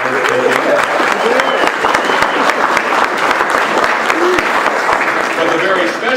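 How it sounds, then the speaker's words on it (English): Audience at a Friedman Foundation legacy event in Indianapolis giving a loud, dense round of applause for staff members, continuous crowd clapping throughout with some voices mixed in. "we can just give them a round of applause"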